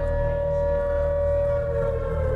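A sustained siren wails steadily at a wrestling show entrance, loud and continuous, with a low rumbling hum underneath throughout.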